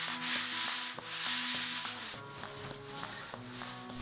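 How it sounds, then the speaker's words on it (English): Hand sanding of dried filler on wooden panelling, with rhythmic back-and-forth abrasive rubbing strokes, close and fairly loud, and soft knocks between passes. "Allow to dry, and then sand and wipe away any dust."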